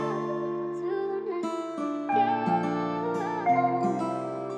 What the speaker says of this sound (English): I actually found this synth type of sound in the Gravel Roads preset